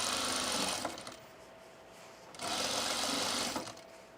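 A serger stitches fabric for a sunblock top in two close, loud bursts of fast whirring, separated by a quieter pause.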